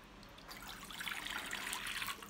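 Lukewarm water poured into an empty bowl, a soft, close trickle building to a steady splashing pour.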